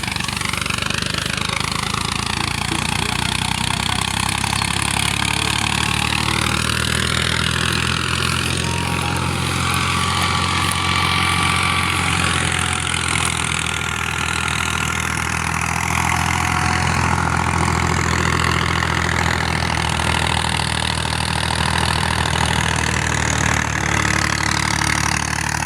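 A 640 tractor powering a wheat threshing machine, a loud continuous engine roar under strain mixed with the whirring, rattling grind of the thresher, steady throughout with shifting whining tones.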